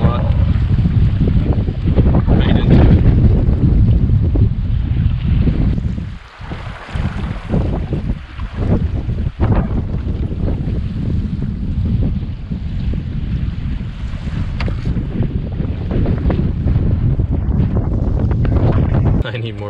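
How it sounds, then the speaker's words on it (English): Wind and lake waves during a solo canoe trip in Woodland Caribou Provincial Park, a steady loud broadband rush of wind buffeting the microphone with water sloshing beneath, sustained throughout with a brief dip partway. "This kind of weather, the waves, the whole feeling, the sunny sky,"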